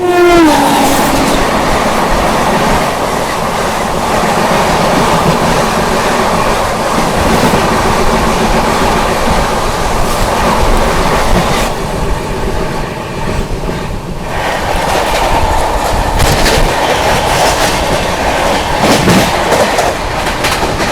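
The 12487 Seemanchal Express from Jogbani to Anand Vihar runs along the rails in India, heard from close up. A loud, continuous rumble of wheels carries clickety-clack rhythm throughout, with a brief dip partway through.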